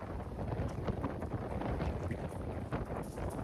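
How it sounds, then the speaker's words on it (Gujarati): Strong wind blowing across an open farm field, buffeting the microphone in a continuous low roar with gusty swells and no speech. "બહુ પવન બહુ આવે છે"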